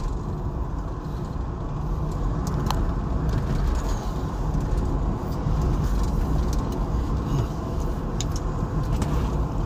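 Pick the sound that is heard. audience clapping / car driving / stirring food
car driving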